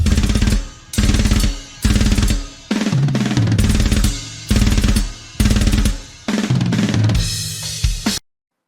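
Raw drum kit pattern with crashing cymbals, loud repeated bursts in a choppy rhythm with short gaps, close and dry, ending abruptly.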